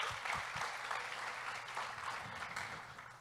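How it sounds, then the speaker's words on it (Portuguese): A small audience claps briefly in a quiet room at a church talk, soft scattered applause with a few low thumps nearby. "uma salva de palmas para o Duca que fez essa arte"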